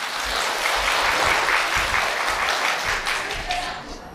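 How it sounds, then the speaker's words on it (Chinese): A theater audience at a Deyun Society crosstalk show at Tianqiao Theater in Beijing gives loud, sustained applause that swells and then tapers, while a performer's voice speaks over the clapping. "谢谢各位的掌声"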